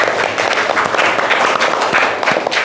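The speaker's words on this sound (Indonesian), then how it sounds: "Tepuk tangan untuk semua." Loud, close clapping from a group of hands, a dense sustained burst of applause with slightly uneven rhythm, following a sing-along clapping song, with no voices over it.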